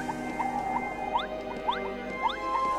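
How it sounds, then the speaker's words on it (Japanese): Jump sound effect from the Paper Mario video game (Mario Story), a series of short rising chirps repeating at a steady bounce over a continuous synthesized game music bed, moderately quiet. "これマリオストーリーの時のジャンプの音じゃない？"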